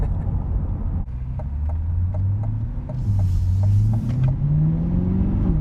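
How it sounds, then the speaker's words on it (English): A C8 Corvette fitted with an AWE exhaust accelerates gently up to about 3,000 rpm. Its deep, steady engine drone climbs smoothly in pitch, with rumbling exhaust tones heard up close and no talking. "So a mild acceleration up to about 3 grand. You can really hear that AWE exhaust."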